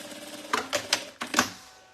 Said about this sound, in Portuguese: direito com direito e a gente faz a costura